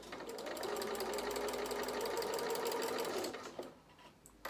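A domestic sewing machine stitches fabric at close range with a rapid, steady mechanical chatter for about three seconds, then slows and stops, leaving a few faint clicks.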